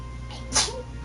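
A single short sneeze bursts out over a low background hum, quick and fairly close, during play of the video game Metaphor: ReFantazio.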